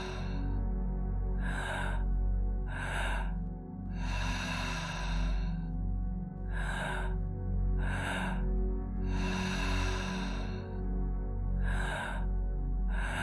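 Deep breathing exercise: rhythmic, forceful breaths in and out, close and loud, coming in about eight bursts with some longer drawn exhales and short pauses between them.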